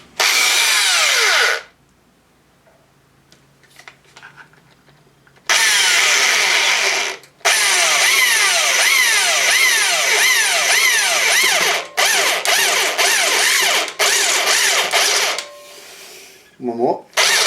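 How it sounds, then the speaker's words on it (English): Step drill cutting 10mm holes through a metal bash plate, loud grinding whine in long bursts separated by pauses, with a chattering, pulsing bite as each step engages, close up and dominating. "And then coming down the drill, they get to the 10mm step. So 10mm holes, easy."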